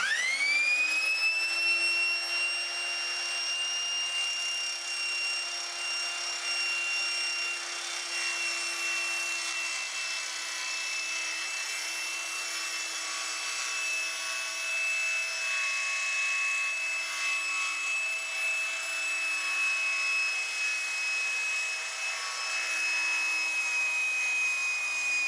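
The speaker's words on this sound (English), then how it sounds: "I'm going to be cutting this to size on the table saw and the radial arm saw in a second" A table saw rips through plywood for a TV stand, producing a steady, loud, high-pitched whine that holds without a break for about 25 seconds.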